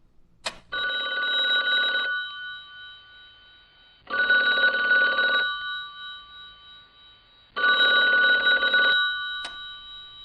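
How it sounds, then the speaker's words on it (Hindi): An old-style telephone bell rings as a sound effect in an animated horror story, three loud, evenly spaced bursts of ringing separated by silences, with a couple of sharp clicks at the start and end. "अचानक फोन की घंटी बजी।"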